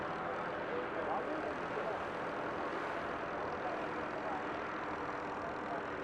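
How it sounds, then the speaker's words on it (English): Distant tractors at a powerboat race venue work to pull runabout boats out of the water, a steady far-off engine drone that stays even throughout. "That's actually the tractors back down there helping get the runabouts out."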